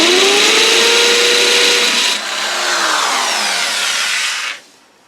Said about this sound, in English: So the masonry drill does work a lot better.